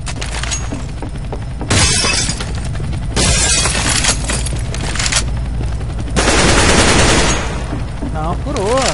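CS:GO gunfire rips through a wall in several loud, rapid automatic bursts, each with a harsh shattering crack, separated by short pauses and followed by a brief sweeping tone at the end.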